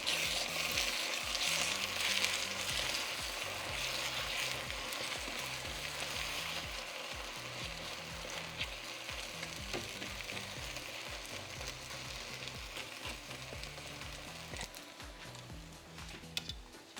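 A Spanish omelette fries in a pan with a steady, close sizzle and crackle that runs unbroken throughout, with faint occasional ticks and no talking.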